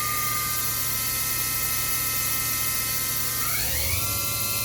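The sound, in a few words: 2015 Hyundai Wia CNC machine spindle spinning up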